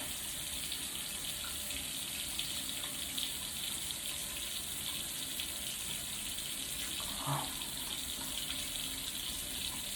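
A sink tap runs continuously, a steady close gush of water while hands are wetted for oil cleansing, with a brief splash partway through.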